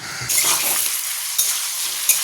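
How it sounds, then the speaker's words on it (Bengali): Jackfruit sizzles steadily as it fries in a pan in a home kitchen, a bright continuous hiss that starts abruptly and is broken by a couple of sharp stirring clinks; no voices. "কাঁঠাল ভাজা হচ্ছে।"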